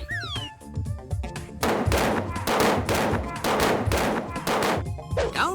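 Blank cartridges fired in a Wild West shootout, a rapid string of loud, sharp bangs in quick succession after a brief stretch of tonal sound with a voice.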